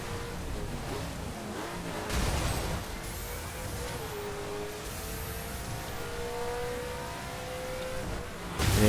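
A Ferrari F40 engine in The Crew racing game drones steadily at high revs, shifting pitch as the car accelerates through gears, with faint tire noise and a brief surge near the end.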